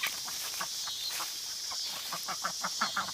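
Repeated harsh, rhythmic guinea fowl calls in a loose chorus, several birds chattering close by over a hissy outdoor background, growing busier toward the end.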